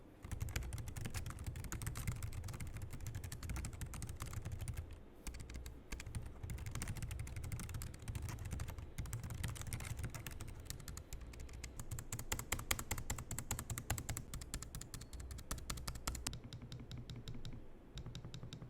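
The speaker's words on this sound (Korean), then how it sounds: "그리고 키보드 타건은 조용하게 잘 세팅이 되어 있더라고요." Continuous quiet typing on an LG Ultra PC Edge 14-inch laptop keyboard, rapid soft key clicks in an even stream, close up with no talking.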